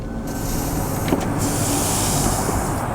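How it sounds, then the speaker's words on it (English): Power windows on a 2018 Ford F150 3.0L Power Stroke diesel FX4 roll down, a steady electric motor whir inside the cab under a constant engine and road hum. "Let's roll these windows down."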